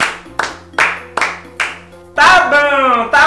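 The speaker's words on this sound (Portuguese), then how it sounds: "Vou aplaudir." Hand clapping in five sharp, evenly spaced claps up close, followed by a burst of loud talking.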